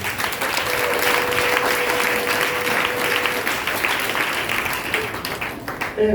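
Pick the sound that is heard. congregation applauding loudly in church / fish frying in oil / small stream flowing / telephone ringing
congregation applauding loudly in church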